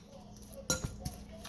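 A few brief, faint clinks of a utensil against a bowl sound as meatball mixture is stirred together with an egg, sharp taps clustered near the middle.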